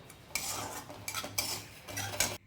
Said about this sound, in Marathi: कमी तेलात छान ब्राऊन होईपर्यंत रवा भाजून घ्यायचा